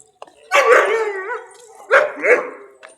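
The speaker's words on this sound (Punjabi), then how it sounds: "ਇਧਰ ਆਪਣੀ ਵੀਡੀਓ ਨੂੰ ਦੇਖ ਕੇ ਕੁੱਤੇ ਵੀ ਭੌਂਕਣ ਲੱਗੇ" Dogs on a farm let out two loud, close bursts of yelping, howl-like barks with a short pause between them, and the second burst breaks into quick double yips.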